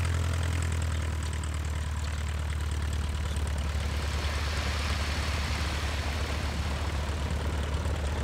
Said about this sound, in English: Okay, so I'm guessing we're on a plane